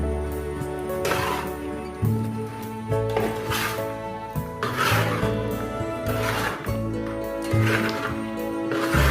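A spoon scrapes and rubs through a thick jaggery mixture with added spice powders in a pan, giving repeated rasping strokes in a steady rhythm, close and moderately loud.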